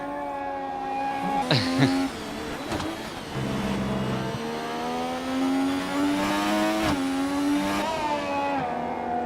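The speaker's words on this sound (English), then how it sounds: "Oh, the car sounds so good." A race car engine in a racing video game revs high and fast, pitch climbing and dropping through gear shifts, loud and continuous with no talking.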